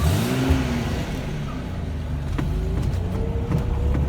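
A stock 1972 Datsun 240Z inline-six fires up on choke, the engine catching with a burst and then running at a rough, steady idle, close and loud, with no talking.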